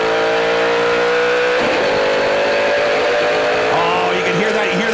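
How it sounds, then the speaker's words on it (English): Canadian Tire Series race cars at the 2010 Vortex Brake Pads 200 roar loudly and close, with engine pitch dropping sharply as they shift gears twice while a commentator talks over them. "Oh, you can hear that. You hear them shift now."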